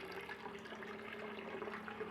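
Water runs from a household tap into an empty container in the Philippines, a steady faint splashing fill with a slight rising tone and no talk over it.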